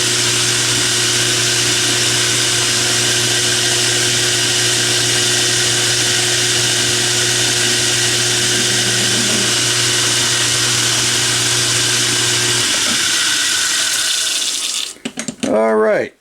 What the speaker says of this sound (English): I'm actually going to use my threading tool, because that'll give me the 30-degree